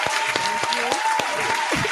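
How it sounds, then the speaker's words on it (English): A small podcast audience claps for a guest, with sharp hand claps ringing out close and loud in an uneven rhythm while voices call out and chatter underneath. "let's clap it up for my little cousin"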